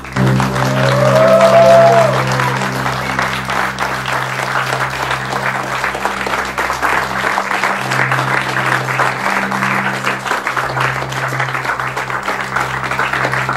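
Studio audience applauding for a singer at a Survivor BG contestant introduction show, a loud sustained burst of clapping over steady low musical tones, swelling at the start and then holding evenly.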